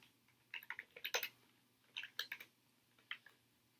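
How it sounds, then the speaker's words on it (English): Bursts of keystrokes on a computer keyboard, three clusters of quick close taps separated by short pauses, near and fairly crisp in a quiet room. "I'm going to type print"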